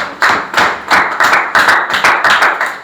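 A student in a grade 9 classroom is cheered with about eight loud, close, evenly spaced claps. No talk is heard over them.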